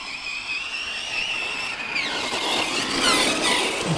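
Team Corally Shiroi 1/8 RC truck on Method tyres driving flat out downhill, a high, whining electric motor that climbs in pitch and grows louder as it speeds, continuous and close.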